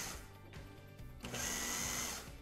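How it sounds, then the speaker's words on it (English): A food processor pulses butter into a matzo-hazelnut crust mixture, giving short whirring motor bursts that build into a steadier buzzing spin, close and fairly quiet, with no talking. "then I'm gonna pulse it just until it's combined"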